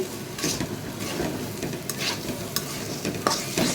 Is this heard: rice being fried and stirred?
yes